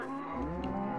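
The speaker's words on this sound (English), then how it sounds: "That was a black cow." A black cow in the Minecraft video game moos once, a long, low, droning call heard alone against quiet game background.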